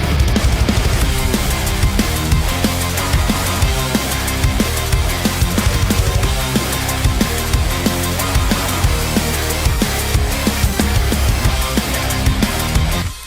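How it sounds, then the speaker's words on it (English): Main guitar lick of a metal fan song for Metal Gear Rising, distorted guitar over programmed Steven Slate drums, playing steadily and loud throughout with no talk. "let's get into the main guitar lick, which is this right here."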